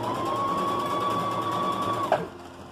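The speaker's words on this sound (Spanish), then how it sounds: "de ahí pasas la costura a 1/4 de pulgada" A sewing machine stitches quilt blocks at a quarter-inch seam, a steady close whirring hum for about two seconds that stops abruptly with a small click.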